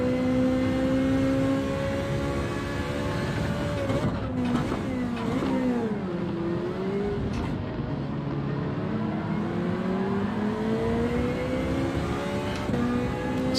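Cars in a Gran Turismo 7 online race roar continuously, their engine tones rising and falling through gear changes and corners, with a brief dip and wavering pitch midway as the cars slide.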